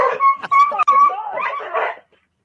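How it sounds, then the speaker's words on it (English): A dog barking at a squirrel, a quick run of close, loud yips and whining barks over about two seconds, then silence. "The dog's barking at the squirrel."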